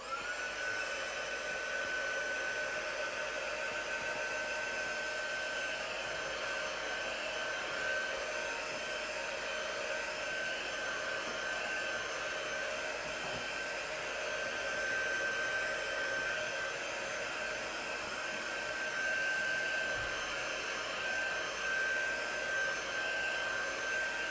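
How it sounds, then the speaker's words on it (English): A hair dryer blows steadily on chalk paste during a crafting session, a continuous even whine and rushing airflow held close and unbroken for the whole stretch, with no talk. "We're going to blow dry that though"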